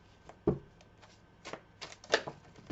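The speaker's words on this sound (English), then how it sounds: "Let's pull some cards here." Tarot cards are shuffled by hand in a quiet room, giving a few soft, irregular riffling flicks and slaps, brief and close.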